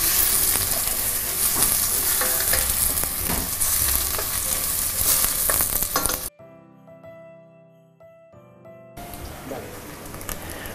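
Chopped onion sizzles loudly and steadily in a hot pan with occasional stirring. The frying drops out for a few seconds of quiet music, then the sizzle returns.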